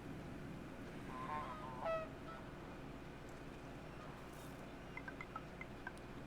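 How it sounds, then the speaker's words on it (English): Geese in the video game Knights and Bikes give a few faint, scattered honks, a couple early and a small cluster later, over a quiet low hum. "I guess the geese are up here."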